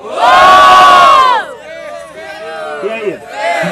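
At an outdoor freestyle rap battle in São Gonçalo, a large crowd erupts in loud cheering and shouting for about a second and a half. Then it fades, and scattered voices and a host's calls carry over the murmur.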